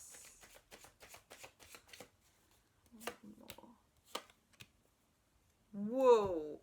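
Tarot cards are shuffled and drawn in a few quick, soft clicks and riffles, close and faint. A short spoken voice comes in near the end.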